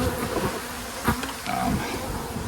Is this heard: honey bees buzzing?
yes